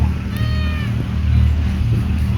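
A cat meows a few times close by, with steady low background rumble and faint voices.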